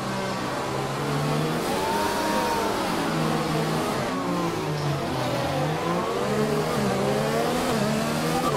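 A Formula 1 car in the F1 2020 racing game revs through a practice start at the Russia track, its engine note climbing and dipping repeatedly in a continuous, moderately loud whine with no talk.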